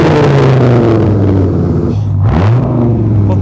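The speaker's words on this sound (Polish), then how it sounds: "Potężny V10." A deep Dodge Viper V10 engine rumbles close by, then revs briefly with a quick rise and fall in pitch before settling back to idle.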